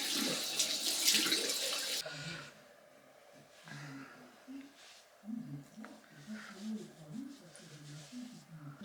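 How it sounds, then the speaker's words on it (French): Tap water gushes loudly close by for about two seconds as a face is rinsed, then cuts off, and a quiet voice talks softly afterward. "Bon, on rince."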